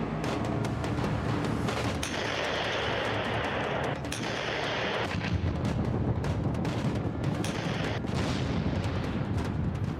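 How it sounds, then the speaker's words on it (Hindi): Tank and artillery fire during Russian military exercises in Belarus, a dense, continuous barrage of booms and rattling bursts that overlap for the whole stretch with no quiet gaps and no clear voices. "तो बारूद बरसा रहे हैं, टैंक आग उगल रहे हैं"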